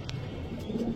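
Pigeons coo nearby in a low, throaty burble lasting about a second, heard alone without speech.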